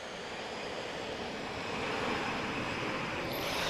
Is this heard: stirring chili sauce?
no